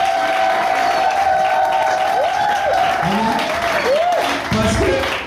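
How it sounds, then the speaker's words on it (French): Applause from a church congregation for a young pastor in Cameroon fills the space as steady dense clapping, while a voice speaks and sings over it throughout. "je prie aussi que tu applaudisses pour le pasteur, le jeune pasteur de ce ministère"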